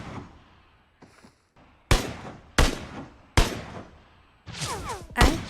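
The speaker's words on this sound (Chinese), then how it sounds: "C 字楼方向有枪声" Gunfire in a shooter video game: several loud, sharp shots spaced about a second apart, with a quick double burst at the end and fainter distant pops in between, no voices.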